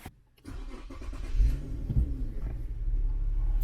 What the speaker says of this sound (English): when we first start the car